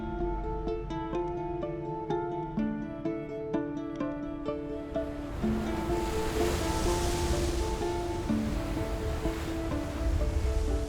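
Open Atlantic ocean waves rolling and washing steadily, a broad even surf wash rising in the second half, with tonal music playing over it throughout.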